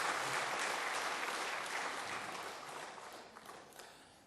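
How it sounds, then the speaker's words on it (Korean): Church congregation applauding during a Sunday service, dense steady clapping from a sizable crowd that slowly tapers off, with no talking over it. "그런 사람은 박수 쳐줘야 돼"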